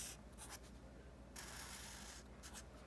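Pen strokes on paper sketching a logarithm graph by hand, quiet close scratching in short bursts with one longer stroke in the middle, no talking.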